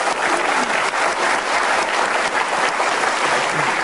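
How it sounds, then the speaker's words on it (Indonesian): Studio audience at a televised Indonesian talk show breaks into steady, dense applause, many hands clapping together close and loud throughout with no voices on top. "Oke, boleh tepuk tangan."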